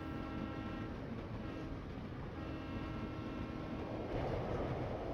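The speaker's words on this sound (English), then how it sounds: "Train." A train rumbles past in the Professor Layton: Diabolical Box game, a steady broadband roar with a faint mechanical hum that swells slightly near the end, with no voices over it.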